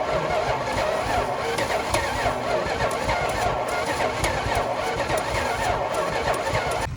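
A long-dormant 1966 Plymouth Sport Fury engine cranks over steadily with a labored, dragging churn, as if something inside is bound up, loud and continuous with no voices.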